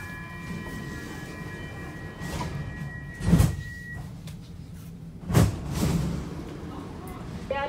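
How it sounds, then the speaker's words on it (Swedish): Doors on a Stockholm metro C20 train slide shut with two distinct thumping closes a couple of seconds apart, over low carriage rumble and a faint electronic tone. "Dörrarna stängs."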